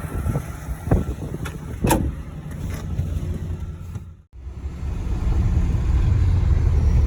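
A vintage Mopar car drives along a highway, its engine rumbling loud and close with a few sharp bumps and a brief dropout before the steady road drone returns.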